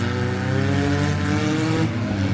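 Minivans racing on a dirt track at a Corydon, Indiana mini van and mini truck event, engines roaring loud and steady with a constant droning rumble that fills the whole moment.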